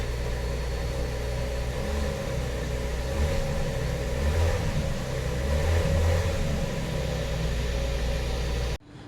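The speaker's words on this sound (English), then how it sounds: "This is a cold start. Let's rev it up a bit." A cold-started Ineos Grenadier engine revs loud and close, its deep rumbling drone swelling in a few throttle blips over about nine seconds before cutting off abruptly at the end.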